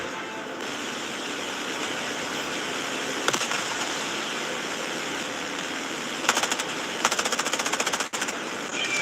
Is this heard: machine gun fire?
yes